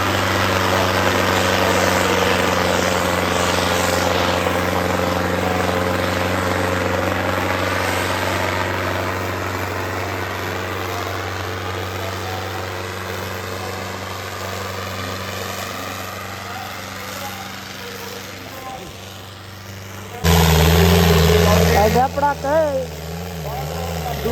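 A heavy tractor engine idles steadily with a low, constant rumble throughout at a trolley-pulling competition, then a sudden louder burst of sound near the end.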